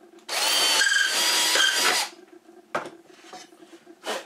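A power drill bores holes through wood with a Jessem doweling jig: a loud, steady whirring burst of about two seconds, then quieter clunks and short knocks as the bit is withdrawn.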